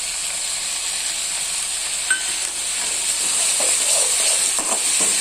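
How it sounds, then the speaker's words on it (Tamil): Chopped vegetables sautéing in a pan over a high flame while rice is stir-fried with tomato sauce and soy sauce, a steady close sizzling hiss with faint stirring scrapes throughout. "எல்லாம் வதங்கட்டும் ஒரு அஞ்சு நிமிஷம் வதங்கட்டும் நல்லா ஹை ஃப்ளேமில் வச்சுருக்கேன்"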